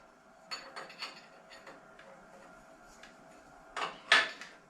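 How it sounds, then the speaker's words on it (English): Wrench work removes the follow rest from an Axelson engine lathe: scattered metallic clanks, scrapes and knocks, faint and intermittent, with a louder pair of clunks near the end and no talking. "I got a wrench here and I can remove the follow rest"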